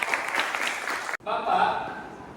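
Short burst of applause from students in a classroom after their teacher calls for it, a broad clatter of hands with a brief cut partway through and voices mixed in.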